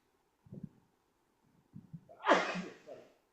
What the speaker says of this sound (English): I've got a huge sneeze coming because of smoke.